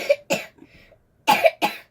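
A person coughs in four bursts, two quick harsh coughs, a short pause with faint breathy sounds, then two more loud coughs close to the mic, as a lingering cough drags on.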